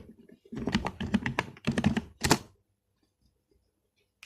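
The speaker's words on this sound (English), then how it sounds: "I will type here Android Studio" Typing on a computer keyboard to enter a search in the Chrome browser: quick clustered keystrokes for about two seconds, close and crisp, then silence.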